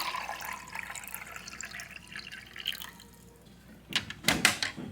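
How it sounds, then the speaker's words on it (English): Water is poured into a coffee maker at home, a soft trickle and dripping followed by a few louder clunks and splashes near the end. "Pour some water."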